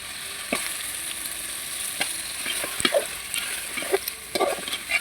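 Chopped chicken fries in a pan with cooked-down spices, a close, soft sizzle broken by scraping strokes of a spoon stirring the pieces.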